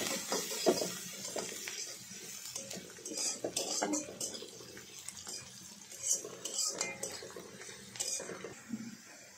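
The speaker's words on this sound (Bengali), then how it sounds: "পেঁয়াজ নাড়াচাড়া করে ভালোভাবে ভেজে নেব যাতে করে পেঁয়াজের কাঁচা গন্ধটা চলে যায়।" Chopped onions being stirred and fried in a pan, with a spatula clinking and scraping against the metal in irregular bursts over a soft background sizzle, close and alone without speech.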